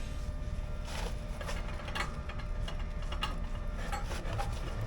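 A two-foot spanner with a bar on the end tightening a bung clicks in a series of quiet, irregular ratcheting snaps over a low background hum in a workshop, with no talking.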